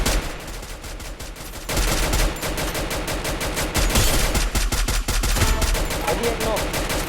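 Rapid bursts of automatic gunfire in the battle royale game Free Fire, loud and continuous with dense repeated shots throughout, growing heavier after the first couple of seconds.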